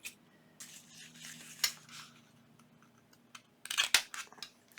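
Scissors trim the edge of paper for a junk journal pocket page: faint, sparse snips and crisp clicks amid quiet rustling in a still room.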